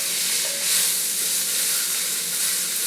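Chopped mint leaves frying in hot oil with a cinnamon stick for a Kerala vegetable stew, a steady dense sizzle and hiss throughout, close and loud with no talking.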